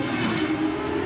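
Toyota Supra race car accelerating hard in a roll race event, a loud continuous engine roar held steady through the short burst alongside other race-car noise.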